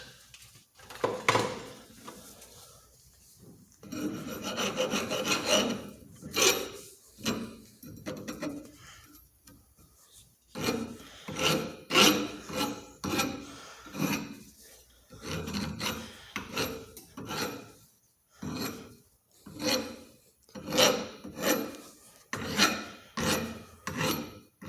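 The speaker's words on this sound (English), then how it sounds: "And I gotta get some of the burrs off real quick here." Burrs are filed off the barrel of a Winchester Model 120 12-gauge shotgun with a file: repeated rasping strokes come in uneven bursts close by, some quick and sharp, others longer, with short pauses between them.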